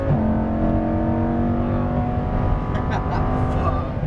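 A Lamborghini Huracan Performante engine pulls hard on a race track, a loud, steady roar with rising harmonic tones and faint crackles toward the end, holding constant volume throughout.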